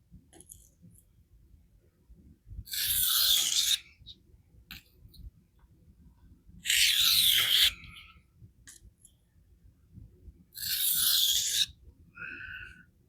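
A Spyderco Sage 5 knife with an S30V blade is drawn across vitrified diamond stones, giving three separate rasping strokes of about a second each, close and crisp, with quiet pauses between them.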